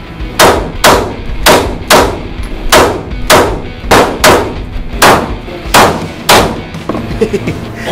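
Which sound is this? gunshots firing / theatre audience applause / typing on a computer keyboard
gunshots firing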